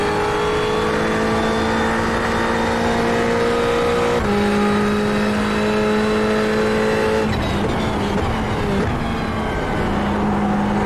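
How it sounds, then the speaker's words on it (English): A loud Lamborghini race car engine in iRacing at Spa-Francorchamps screams at high revs, climbing through gears with brief drops in pitch, continuous and close. "That Lambo especially, you hear it from about a mile away when it's going to be coming past you."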